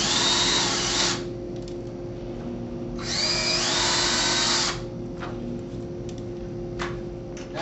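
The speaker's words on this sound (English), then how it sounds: "we can pre-drill our holes." A power drill pre-drills screw holes for mounting Norman direct-mount shutter hinges, two close whining bursts of about a second each, separated and followed by quieter handling clicks over a steady background hum.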